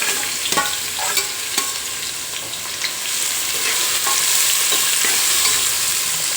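Onion frying in plenty of hot oil for a dhaba-style whole masoor curry, a steady bright sizzle with repeated sharp clinks and scrapes of a spoon stirring, close and loud throughout, no talking.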